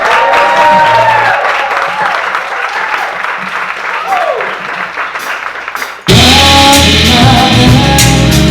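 An audience gives a sustained round of applause with some cheering, which cuts abruptly into a louder burst of music partway through.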